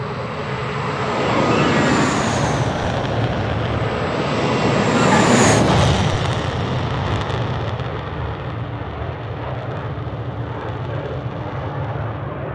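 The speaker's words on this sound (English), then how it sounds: "Let's rotate the aircraft off the ground. Climbing away, positive climb, gear up." A BAE Hawk jet taking off in Microsoft Flight Simulator gives a continuous loud engine roar with a high whistling whine, swelling and fading slightly over about twelve seconds of steady thrust, with no voices.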